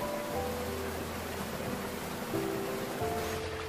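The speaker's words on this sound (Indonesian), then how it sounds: "Dengan sungai mengalir yang membelah pada bagian tengahnya." A river runs through the middle of a terraced Catholic prayer garden on the slopes of Merapi, giving a steady broadband rush of water that holds constant throughout, with faint tonal sounds drifting over it.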